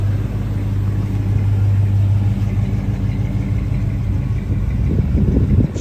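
A Chevrolet Blazer engine runs under its own power for the first time in about nine months, a loud, close, steady low idle rumble that roughens slightly toward the end.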